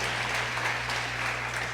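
A church congregation applauds during a sermon, a dense, even wash of clapping heard over a steady low hum.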